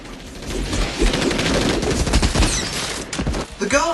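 Rapid gunfire from the film Equilibrium as Preston shoots down a hallway of guards, a dense run of loud overlapping shots with music and effects behind it.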